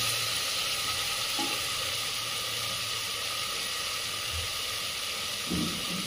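Fresh green chickpeas sauté with salt in a hot pan, giving a continuous loud sizzle and hiss, with a few soft stirring knocks under it.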